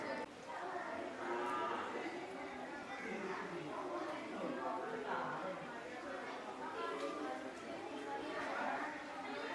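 Cattle, including bulls, moo repeatedly on a farm, several drawn-out lowing calls overlapping one another, with people chattering in the background.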